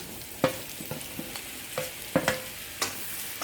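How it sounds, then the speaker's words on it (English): Mushrooms frying in a pan, a soft steady sizzle broken by several quiet scraping clicks as a utensil stirs them. "Now we're going to fry our mushrooms."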